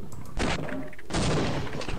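Grenade blasts in a Half-Life mod video game, two loud bursts of booming noise about half a second apart, each with a rumbling tail.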